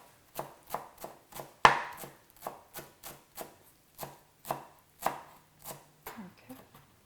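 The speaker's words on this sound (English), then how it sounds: "So you just want to give this kind of a rough chop." A knife rough-chops fresh cilantro on a cutting board in about fourteen evenly spaced, crisp strokes, close and clear with no talking.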